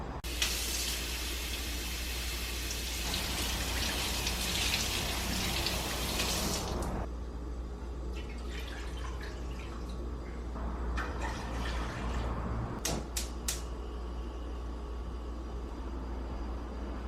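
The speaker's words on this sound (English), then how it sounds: "I'm just going to rinse some quinoa, cook it" Steady running water pours from a kitchen tap as quinoa is rinsed, a dense continuous rush that shifts in tone partway through, with a few small clinks near the end.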